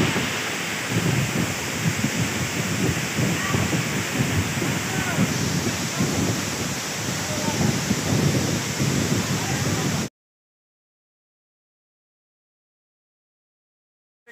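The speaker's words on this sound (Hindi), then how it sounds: "पीछे देखिए वाटरफॉल पूरा ऊपर से है, तो पानी जब गिर रहा है" Dambul waterfall at Pomdhi, Odisha, water pouring down steadily from the top, a dense loud roar with rain-like hiss and spray close by. It continues unbroken for about ten seconds, then stops abruptly.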